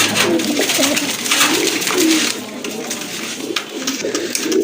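A pair of grizzle pigeons coo at a bustling bird market, their low, rolling calls repeating over a dense wash of crowd and stall noise.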